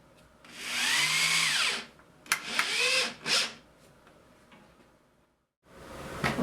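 A power drill drives screws to join clamped pieces of a workbench for a midi lathe. There are two or three loud whirring bursts, with the pitch sliding as each screw seats, and short pauses between them.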